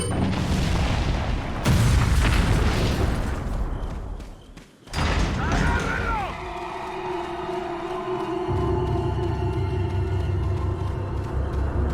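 Gameplay sounds from Resident Evil 4 on PC: a heavy boom and a rushing blast, then a sharp slam and mechanical rumbling that settle into a steady low drone. No voices are heard.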